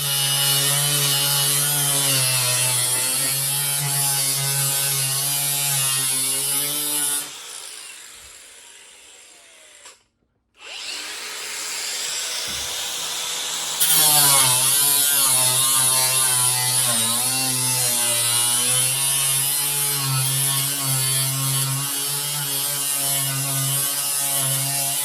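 Power sander working on the cowl panel of a VW Beetle in a body shop, a loud steady whine with shifting harmonics, pausing briefly midway, then resuming even louder for a long continuous pass.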